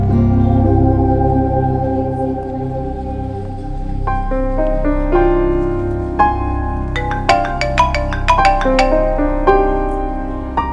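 A melodic electronic ringtone plays over a low sustained hum, its notes growing brighter and busier toward the end.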